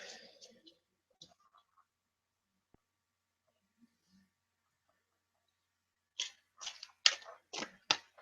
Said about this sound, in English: shuffle a little bit and draw another one